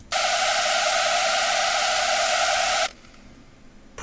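A loud, harsh buzzing synthesized screech lead tone with a bright noisy edge and reverb holds steady for about three seconds, then cuts off abruptly to near silence.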